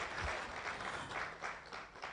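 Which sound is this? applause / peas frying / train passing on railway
applause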